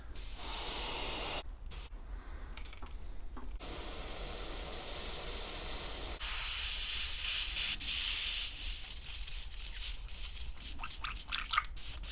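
A Badger Patriot airbrush with a 0.5 needle sprays thick paint onto crankbait lures, producing a steady close hiss with brief interruptions and sputtering pulses as the trigger is worked.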